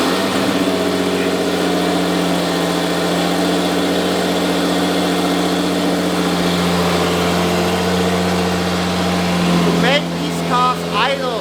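A car engine idles with a steady low hum and constant drone, loud and close, while people talk over it near the end.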